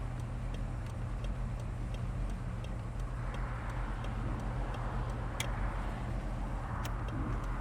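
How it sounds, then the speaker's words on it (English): A 1967 Oldsmobile 442 convertible with a 455 engine idles steadily, a low continuous rumble with a few faint ticks over it and no talk. "Once again, we're idling nicely."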